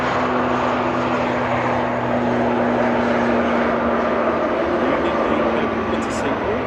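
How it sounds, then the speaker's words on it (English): A Logan Air ATR 42-500 turboprop departs Manchester airport, a loud, continuous propeller drone with a steady low hum, heard under a speaking voice. "Logan Air departing now. The ATR 42500 departing back to Inverness"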